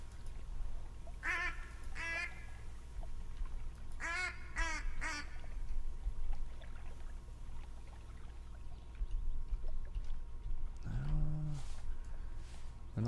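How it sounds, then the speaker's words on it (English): Ducks quack in the hunting game The Hunter: Call of the Wild, in short bursts of several calls over a steady outdoor ambience, with a deeper, louder quack near the end. "let's try and get some ducks in here"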